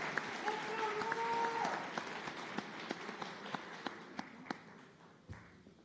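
An audience applauds new nursing students at an LCON white coat ceremony; faint, thinning clapping with scattered individual claps that trail off over a few seconds, heard from a distance.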